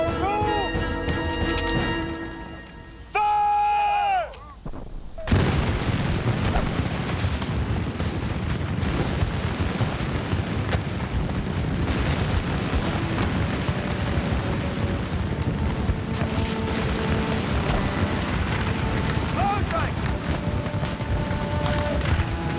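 French and British soldiers in battle firing a musket volley, heard as a sudden loud crash that gives way to a long, dense rumble of gunfire and smoky chaos, after a brief stretch of music and voices.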